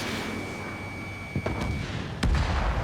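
Aircraft gunfire in Ace Combat 7 over a steady engine drone, with a couple of brief muffled thumps and one sharper burst near the end.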